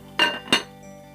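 A lid is set onto a pot of simmering vegetables for Cebu binignit, a traditional Filipino Lenten dish, giving two quick, close metallic clinks about a third of a second apart over a faint steady background.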